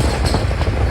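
A brief burst of a train rumbling across the Godavari river bridge near Rajamahendravaram, heavy low roar with quick rhythmic wheel clatter, loud and close.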